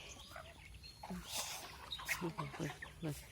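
Chickens at a Thai farmyard feeding spot, with scattered clucks and calls mixed among close voices of people talking while the birds are fed.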